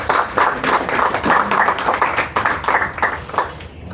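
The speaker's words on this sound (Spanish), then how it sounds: "Un aplauso para Luis." Applause from a conference audience at a panel discussion on arts, pedagogy and health for children, heard as brisk, fairly close clapping that keeps a steady level for about four seconds and then starts to thin out.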